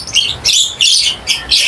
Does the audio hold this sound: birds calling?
yes